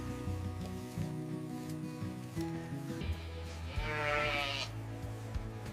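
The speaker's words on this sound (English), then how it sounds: "Goats on this farm are raised for both milk and meat production." Farm goats raised for milk and meat bleat several times, wavering calls at moderate distance with one louder, drawn-out cry near the end over a low background hum.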